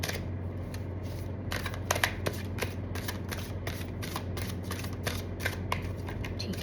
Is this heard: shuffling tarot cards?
yes